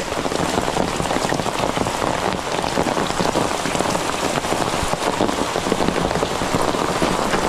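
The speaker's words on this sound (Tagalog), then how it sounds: "Ay nako, ulan." Steady heavy rain pours onto surfaces outdoors, a dense unbroken patter that holds at a constant loud level throughout.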